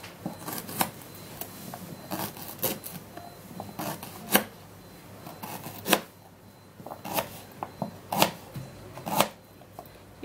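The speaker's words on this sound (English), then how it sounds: "And then the ginger, you're just going to cut it." Knife cutting ginger on a board, with irregular sharp chopping clicks spread across the span, some louder strokes standing out, fairly close and with no talk.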